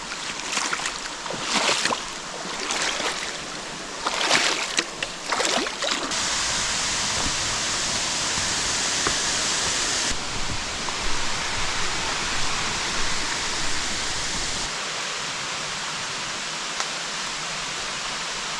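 Steady rushing water fills the clip, with sloshing splashes early on as someone wades across a flowing creek in the Wilson Creek Wilderness; loud and close, no talking.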